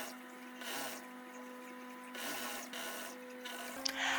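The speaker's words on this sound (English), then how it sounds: "I top stitched it again a little bit more than a half of an inch from the first stitch." Sewing machine top stitching a gathered skirt's elastic waistband, a steady mechanical whir in bursts with short pauses between runs, close and moderately quiet.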